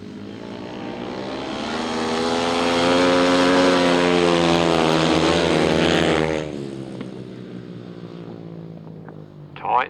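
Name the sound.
racing engines at full throttle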